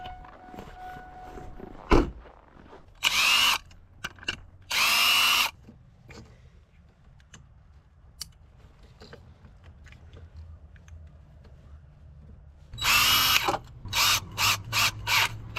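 A cordless power drill backs screws out in several short bursts, a loud close whine that starts and stops, with quiet gaps and small clicks between runs and a fast stuttering run of pulses at the end.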